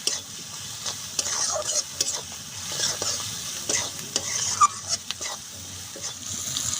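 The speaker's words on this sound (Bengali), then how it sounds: "ফোড়নটা খুব ভালো করে কষে নেব।" A spice tempering with chopped tomatoes, salt and turmeric for khichuri sizzles in a pan as it is stirred, with repeated close utensil scrapes and clinks over a soft, steady frying hiss.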